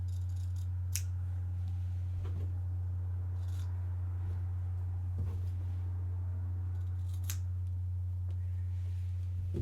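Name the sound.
scissors trimming fabric corners of tote bag pocket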